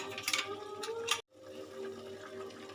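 Water rinsed from a mixer jar pours into a pan of poppy-seed gravy with a splashing, bubbling rush that stops abruptly, then a quieter simmering hiss continues; no speech.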